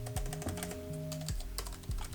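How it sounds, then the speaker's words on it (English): Typing on the keyboard of a budget Coda 1.1 laptop produces rapid, close, clicky keystrokes in an uneven rhythm, with faint electronic tones sweeping underneath. "the keys have a nice tactile feedback"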